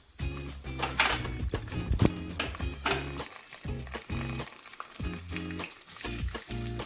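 Asafoetida and dry red chillies hit hot oil for a Kannada bottle gourd majjige huli, crackling and sizzling loudly up close, with bursts of spattering and stirring scrapes that come and go.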